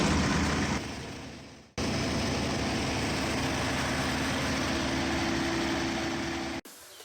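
A loud, steady Caterpillar C4.4 Perkins diesel engine on a Bandit Intimidator 12XP wood chipper idling cold up close while warming up, a constant heavy rumble with a brief cutout near the start and a drop at the end.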